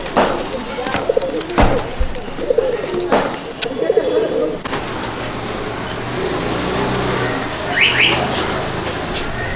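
Pigeons in a loft cage coo in soft, low, throaty bursts over a constant hiss of background noise, with a brief high whistle-like sound near the end.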